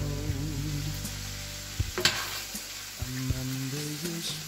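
Lasagne filling sizzling in oil in a large pot, a steady close fry with scraping stirs and a few sharp clanks of a utensil, no voices.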